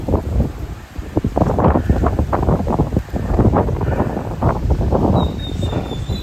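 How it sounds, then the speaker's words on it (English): Strong gusty wind buffets the microphone in loud irregular bursts, roaring and rumbling continuously with no voices. "Yeah, it's windy now."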